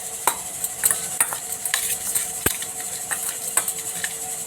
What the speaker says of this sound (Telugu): వేసుకొని కలుపుకోవాలి.